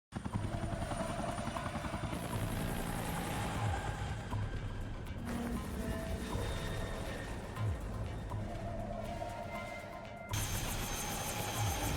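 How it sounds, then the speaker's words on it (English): An animated helicopter lands, its engine and rotor droning steadily at moderate level with shifting tones and a few abrupt cuts, with no speech. "We had to animate the helicopter landing."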